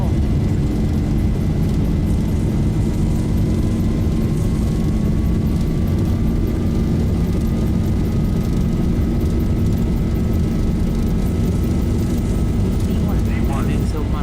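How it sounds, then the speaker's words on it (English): Boeing 737 jet engines spool up to takeoff thrust in the Zibo mod flight simulator, a loud, steady broadband roar with a rising whine that holds throughout, while a voice talks over it. "Takeoff thrust set."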